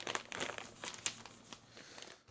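Plastic packaging crinkles and crackles close up while being cut open with scissors during the unboxing of a Tekno RC SCT410.3 radio-controlled short-course truck, a steady run of crisp rustles with a few sharper snips.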